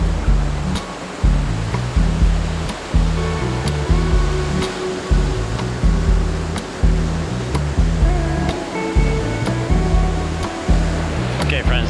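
Surf rolling onto a crowded beach at Crystal Cove, loud and close, with repeated wave surges and broad washing hiss throughout, no other sounds standing out.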